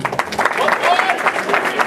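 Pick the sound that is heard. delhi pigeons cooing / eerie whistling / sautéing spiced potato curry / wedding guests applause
wedding guests applause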